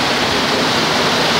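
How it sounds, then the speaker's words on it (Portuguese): Flash floodwater rushes through a city street in Uberaba, Brazil, a loud, steady roar of churning water filling the whole moment with no break. "Olha pra você ver a força dessa água."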